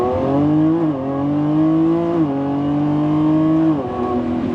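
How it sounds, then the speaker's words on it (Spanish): A 2025 Lamborghini Revuelto pulls hard through its gears, the loud engine note climbing steadily and dropping sharply at each of three quick upshifts, close and continuous with no talk. "lo que tenemos que destacar es esa transición entre marchas"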